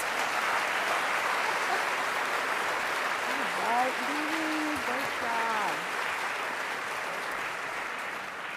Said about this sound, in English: Let's give Louie, our outstanding student athletes, and athletics division a round of applause for their many successes.